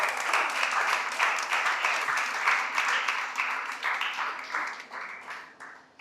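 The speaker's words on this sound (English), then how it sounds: "Please, let's give her a round of applause" An audience at a school debate claps for the timekeeper, a lively round of many hands with a rhythmic, pulsing quality that swells, then gradually fades out over six seconds.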